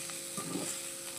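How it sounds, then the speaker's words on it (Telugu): Mixed vegetables frying in a pan with chilli seasoning powder, catering-style dish, a steady soft sizzle with faint stirring scrapes, close and continuous, no voices. "సిమ్లో పెట్టుకొని చక్కగా ఫ్రై చేసేసుకోవాలి."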